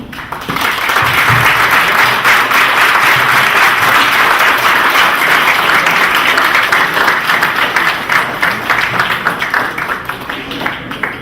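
Loud, sustained applause from an audience after a lecture at an academic colloquium, dense clapping filling the room for several seconds before gradually thinning out.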